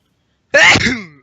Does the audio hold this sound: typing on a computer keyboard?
no